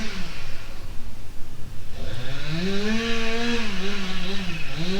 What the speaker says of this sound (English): the neighbor down the street decides to run a chainsaw.